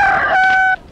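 A rooster crows once, loud and close, in a single strained, drawn-out call that cuts off abruptly, with no talk over it.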